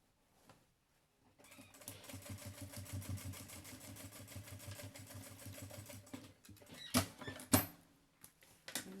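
A sewing machine stitching a seam on a double-sided beach bag with a bamboo handle, joining the sides at a milk-carton insert: a steady rapid mechanical whirr lasting several seconds, then a few sharp knocks and clicks as it stops, close up.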